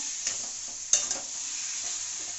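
Spice masala frying in a pan with water added, a bright steady sizzle with a few soft stir scrapes and one sharper clack, close, continuous and with no talking.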